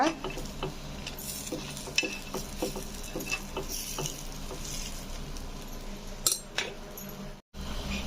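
Kara kuzhi paniyaram sizzle steadily in a pitted paniyaram pan while a utensil turns them one by one, giving light scraping and tapping clicks over the continuous frying hiss.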